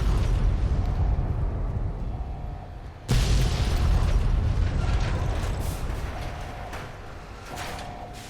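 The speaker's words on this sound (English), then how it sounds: "More stuff exploding, sweet." Explosions rumble in Fallout: New Vegas, a heavy sustained roar with a sharp blast at about three seconds followed by further booming and debris rattle, loud and continuous with no speech.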